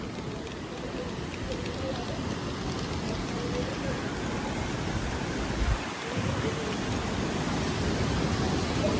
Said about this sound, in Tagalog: Talagang malakas yung ulan.